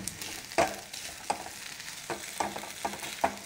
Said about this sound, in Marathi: एक अर्धा मिनिट अजून ही भाजी आपण अशीच परतून घेऊया